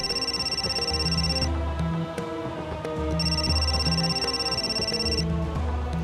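A phone ringtone repeating in a looping electronic pattern, with a short pause between rings, steady and fairly clear.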